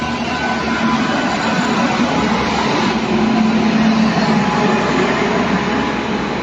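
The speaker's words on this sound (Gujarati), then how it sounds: "આ જબલપુર ટ્રેન અહીંયા" Steady rumble and clatter of the Somnath–Jabalpur passenger train arriving at a station nearby, a continuous dense roar with no voices.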